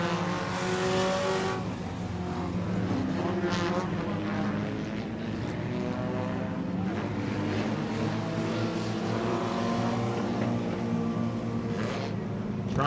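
Race cars at Auburndale weekly racing circle the track lap after lap, their engines a loud, continuous roar with rising and falling tones as cars pass, holding steady the whole time.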